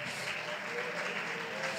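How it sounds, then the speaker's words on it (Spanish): Church congregation applauding during a Bible study service: steady, sustained clapping from a crowd fills the whole moment at an even level. "Le voy a pedir que lo aplauda."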